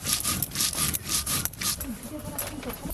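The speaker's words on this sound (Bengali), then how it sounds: "এখানে আমি পোস্ত, চালমগজ আর কাজু বাদাম একসঙ্গে বেটে নিচ্ছি।" Poppy seeds, melon seeds and cashews are ground together into a paste by hand on a stone, giving a close rhythmic rasping scrape in repeated back-and-forth strokes.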